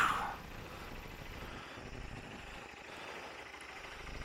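A motorbike pulls away from Tan Hill, its engine a faint, steady low rumble mixed with wind noise, briefly louder at the very start and then even throughout.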